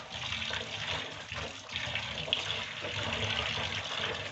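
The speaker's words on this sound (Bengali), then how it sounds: "আমি এটা সুন্দরভাবে এবার ধুয়ে নিব।" Cloth dyed Prussian red is rubbed and rinsed by hand in water, giving a continuous splashing, sloshing wash at close range with no voices.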